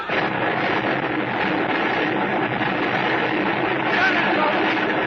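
A torpedo explosion sound effect in a 1940s-style radio drama of The African Queen, a dense, sustained roaring rumble that stays loud and unbroken throughout and swells slightly near the end.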